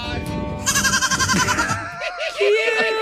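Baby goats let out several wavering, high-pitched bleats in quick succession, loud and close, with a chatter of people talking in the background.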